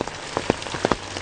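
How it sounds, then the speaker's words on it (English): Heavy rain in Central Texas pours steadily onto nearby surfaces, a dense hiss broken by a few sharper drops and splats, close and continuous, with no talk. "it is obviously, as you can kind of tell, raining like a son of a gun."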